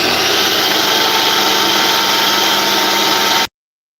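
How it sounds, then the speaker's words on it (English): A power tool grinds steadily and loudly, beveling and cutting the ends of a gemstone egg, a constant droning whine that stops abruptly near the end. "I'm gonna do a little bit of the beveling for the ends and cut those off"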